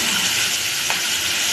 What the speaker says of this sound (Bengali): একটু রসুন কুচি দিয়েছি, এটাকে ভালো করে ভাজবো